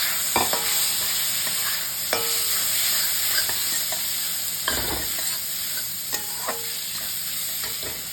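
Fried green peas and kundru (ivy gourd) tipped into a hot pan of garlic and onion for fried rice, with a steady sizzle under repeated scraping stirs and occasional clinks of the spoon against the pan.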